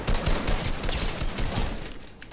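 Rapid gunfire from a weapon in Fortnite, a dense rattling volley of shots up close that eases off toward the end.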